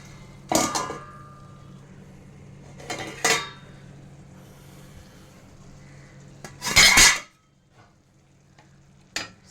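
Metal clanks against a cooking pot in a few separate bursts, the loudest a rattling clatter near the end, as of a lid being set on, over a quiet background with no talking.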